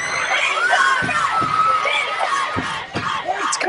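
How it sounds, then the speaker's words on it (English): A crowd of nearly 10,000 at a pop concert screams and cheers in a loud, sustained roar with high shrieks and whoops rising over it. "Let me hear you guys scream!"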